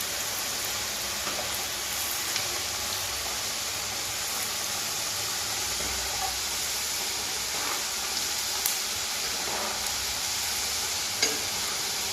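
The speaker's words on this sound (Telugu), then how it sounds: "ఒకసారి మొత్తం ఇలా కలిపేసుకుందాం" Wheat flour gavvalu dough pieces stirred in a pan of hot frying oil: a steady, close sizzle with soft scraping stir strokes throughout, and no talking.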